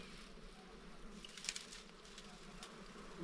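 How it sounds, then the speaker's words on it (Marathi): Honeybees stirred up while honey is cut from a comb give off a faint, steady buzzing hum under outdoor background noise. "माश्या उठल्या माशाही काय उठलेत"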